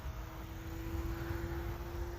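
A Hobbyzone Aeroscout RC plane sweeps past on a low pass, its small propeller motor giving a steady, moderately distant drone with a sustained whine over outdoor breeze, no voices.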